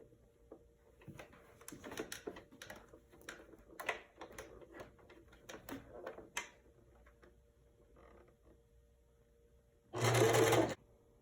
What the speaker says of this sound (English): And then we're going to sew over the top of that.